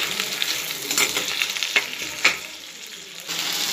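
Six dried red chillies and two large chopped tomatoes sautéing in a pan, a busy close sizzle broken by several sharp stirring scrapes.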